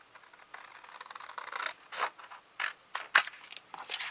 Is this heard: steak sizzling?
no